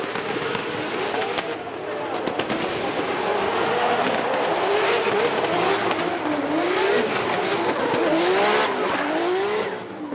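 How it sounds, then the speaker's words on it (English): Race car crash caught on onboard audio, with a loud continuous roar of engine and scraping noise across the whole stretch, shifting whines rising and falling, and a voice faintly beneath. "let's take a listen to the impact here, because I believe our gentleman's got the audio"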